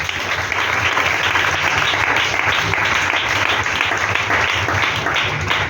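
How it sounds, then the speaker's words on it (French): A church congregation applauding for Jesus, a dense, steady wash of many hands clapping at once, loud and sustained for several seconds without a break. "Et acclamons Jésus."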